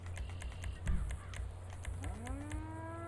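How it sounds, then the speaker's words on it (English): A cow moos in GTA 5 during a real-life mod session of hauling a Caterpillar 140M3 motor grader, its low, rising call swelling near the end over quick tapping clicks and steady game background noise. "You hear a cow? There's a cow somewhere."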